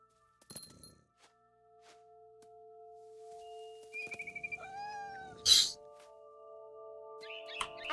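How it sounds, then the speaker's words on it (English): A barn swallow gives a quick run of bright chirps in the game What Remains of Edith Finch, followed by a rising call and a sharp burst, all over a quiet, sustained musical drone. "Then I heard chirping outside my window"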